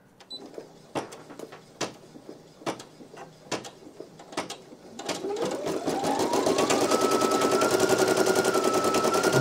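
Brother PE900 embroidery machine stitching out a design, first a string of separate mechanical clacks about a second apart, then a fast, loud, continuous rattling whir with a rising motor tone as it runs at full speed.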